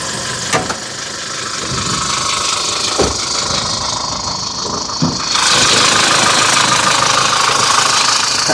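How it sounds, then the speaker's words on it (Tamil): A Chevrolet Tavera or Maruti Wagon R engine idles steadily at close range, a rough, slightly knocking mechanical hum with a few sharp clicks, growing a little louder and brighter after about five seconds. "வண்டி ஸ்டார்ட் பண்ணி"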